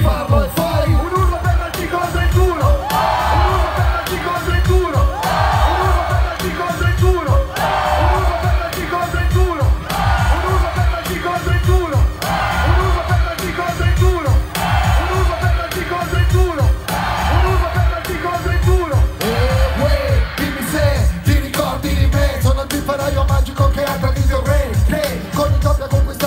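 A large outdoor concert crowd in Rome shouts and cheers steadily over loud live music with heavy rhythmic beats, the massed voices dense and continuous throughout.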